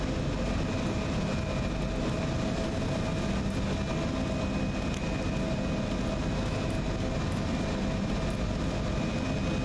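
A locomotive in the SimRail railway simulator gives a steady, loud, broadband engine and rolling rumble that holds constant throughout, with faint rhythmic clicks over the top and no speech.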